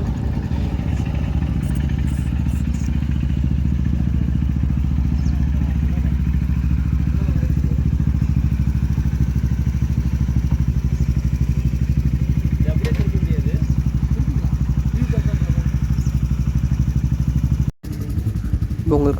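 A motorcycle on a group ride in Ooty runs at a steady idle, a low rumble held for the whole stretch and cut off briefly near the end. Someone talks over it.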